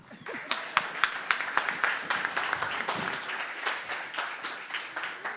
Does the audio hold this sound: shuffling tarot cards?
no